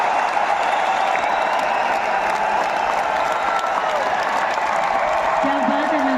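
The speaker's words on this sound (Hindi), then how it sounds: "जोरदार तालियां" A large audience applauds steadily and continuously, a dense wash of clapping that holds at an even level throughout, with a brief voice or tone surfacing near the end.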